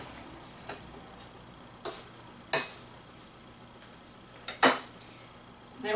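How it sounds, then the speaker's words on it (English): A spoon pokes into dry cupcake ingredients in a bowl, making a handful of light, sharp clinks against the bowl at irregular intervals, close and clear over a quiet background. "we're going to make 3 holes with a spoon."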